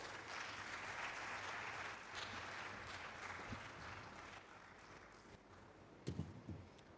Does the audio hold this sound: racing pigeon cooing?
no